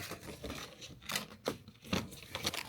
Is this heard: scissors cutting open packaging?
yes